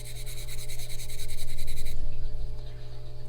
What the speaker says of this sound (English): I just got this little cover to clean off yet